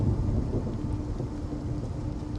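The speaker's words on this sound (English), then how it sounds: "a sudden wall of rain paired with 60 to 80 miles per hour winds" A steady, dense roar of heavy rain and rumbling wind fills a desert storm, constant and loud with low thunder-like rumble and no voices.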